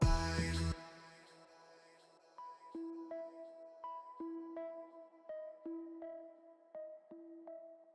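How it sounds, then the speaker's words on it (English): After a brief loud burst, a plucky arpeggiated synthesizer steps through bright repeating notes in a quick, even pattern, fairly quiet and alone. "But then the ARP sounds like this."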